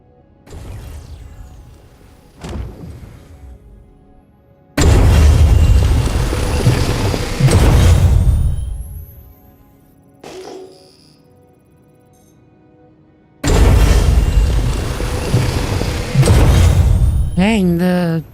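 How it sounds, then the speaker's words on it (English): Mining extraction tool in Star Citizen, running in long loud roaring stretches that cut in abruptly and stop, separated by quieter gaps with a faint background hum, a voice talking in between. "the extraction tool is so loud"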